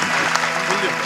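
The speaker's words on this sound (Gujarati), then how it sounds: "એમને પણ જોરદાર તાળીઓથી વધાવો" Audience applause at a Gujarati comedy show, a short burst of steady clapping with a voice talking over it.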